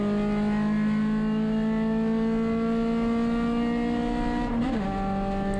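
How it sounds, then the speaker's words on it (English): Touring race car engines roar steadily at a green-flag standing start on a banked track at a USTCC race, a loud sustained drone whose pitch drops briefly near the end. "Green flag's out. Tons of tire spin on this banked surface."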